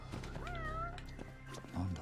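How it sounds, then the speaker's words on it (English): Cat meows in a video game, two short gliding cries over a steady low hum with game sounds, then a lower growl-like call near the end. "it's a cat, but it's not Swang Shi."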